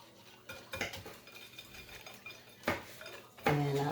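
A dessert mixture is whisked in a bowl with quiet, irregular clinks and scrapes of the whisk against the sides, fairly faint, ending in a louder clatter.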